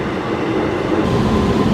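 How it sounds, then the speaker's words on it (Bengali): A Kolkata Yellow Line metro train pulls away from the Airport station, giving a steady, loud rolling rumble and hiss of wheels and carriages with no voices. "বিমানবন্দর মেট্রো স্টেশন ছেড়ে যাচ্ছি আমরা"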